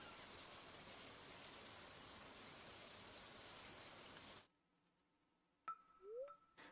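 Rain falls in the Stardew Valley video game as a steady, soft, even hiss for about four seconds, then cuts out abruptly, leaving near silence broken by a few faint clinks and chimes.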